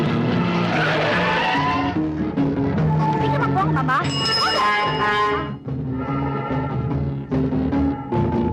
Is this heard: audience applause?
no